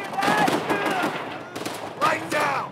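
Gunfire from Call of Duty: World at War rattles in loud, sustained bursts with a short break in the middle, mixed with other game noise from a battle against Japanese forces.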